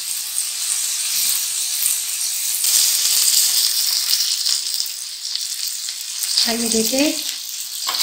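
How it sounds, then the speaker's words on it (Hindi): Matar kabab, small pea patties, fry in a pan with a steady, bright sizzle and hiss throughout. A brief voice speaks near the end over the crackling oil. "फोर साइड से बहुत अच्छी तरह से ये फ्राई हो गए"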